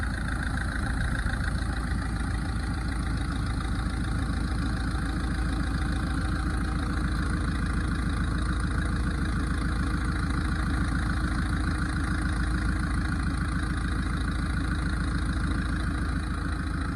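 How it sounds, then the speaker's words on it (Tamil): A Ford Fiesta engine idles steadily after starting, with the head gasket just repaired following coolant boiling; the low, even rumble runs unbroken and close. "ஃப்ரெண்ட்ஸ் இந்த ஃபோர்டு ஃபியஸ்டாவோட இன்ஜினை ஸ்டார்ட் பண்ணிட்டேன்"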